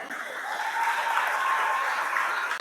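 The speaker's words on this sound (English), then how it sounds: "A big applause to her parents" Steady audience applause at a felicitation function for cricket captain Harmanpreet Kaur, a moderately loud wash of clapping that holds evenly for a few seconds before a sharp burst at the end.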